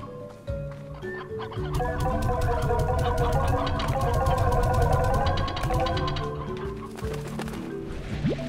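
A roostro, a rooster-like creature in the video game Slime Rancher, clucks and calls repeatedly over a busy bed of animal sounds and game music.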